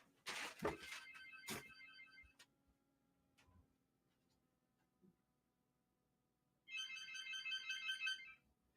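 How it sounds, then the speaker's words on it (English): An electronic ringtone trills in two bursts, one early and one near the end, separated by quiet with a few faint clicks and taps. "telephone is ringing"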